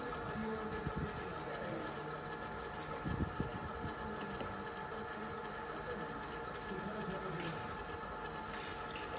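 Motorised levelling jacks on an Adria Twin camper van whirring steadily as they lower and lift the vehicle, a continuous mechanical drone with a few faint clicks and knocks, with no talking.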